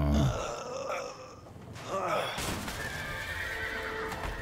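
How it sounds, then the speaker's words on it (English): Horses neigh and whinny in the video game A Way Out, with a burst of loud whinnying near the start and hoof clip-clop in a busy game mix, while people talk throughout. "Oh, hell, the horses are escaping"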